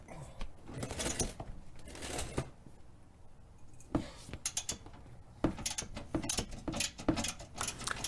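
Ratchet work on 18mm frame bolts under a Dodge Dakota or Durango truck during front bumper removal: close, uneven bursts of clicking and metallic rattling with short pauses between, no talking.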